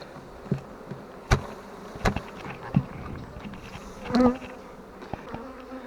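A caught honeybee swarm being moved into a hive buzzes in a soft, steady drone, broken by a few sharp knocks and thumps close by.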